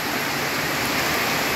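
Heavy rain pours steadily beside a river under a darkening stormy sky, a dense, close, unbroken hiss with no voices.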